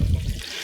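Water pours into a pot to make fish stock, a short, close, splashing gush that quickly fades.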